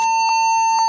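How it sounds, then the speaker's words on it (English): Toshiba Satellite laptop beeping while a bunch of buttons are held down, giving two or three short loud electronic tones in quick, regular succession. "Then I can hold a whole bunch of buttons and it starts beeping."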